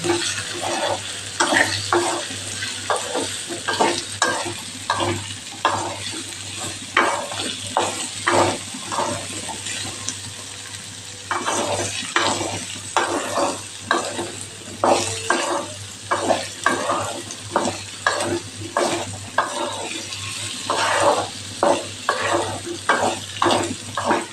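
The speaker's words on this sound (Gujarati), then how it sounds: "અહીંયા હવે આપણે ગાજરને ઉમેરી દઈશું અને પણ સરસ આપ સરસ આપણે સાતડી લઈશું બટેકા સાથે" Carrots sautéing with potatoes in a pan for Kathiyavadi gajar-bateta shak: a steady sizzle with repeated rhythmic scraping strokes of stirring, close and moderately loud, with brief pauses.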